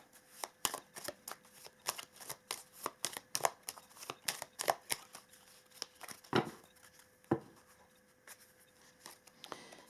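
Tarot cards being shuffled by hand in a series of crisp riffling and slapping bursts, irregular and close, with no talking.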